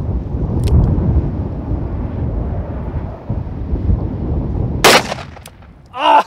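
A single Magnum handgun shot is fired at a target outdoors, a sharp, loud crack near the five-second mark over steady wind rumble. A short voice follows right after.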